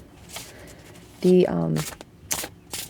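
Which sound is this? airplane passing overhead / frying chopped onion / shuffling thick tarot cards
shuffling thick tarot cards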